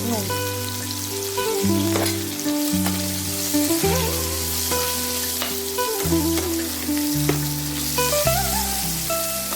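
Vegetable stems fry in oil with turmeric and salt until light brown, giving a dense, continuous sizzle with occasional stirring scrapes. Steady tonal music plays underneath.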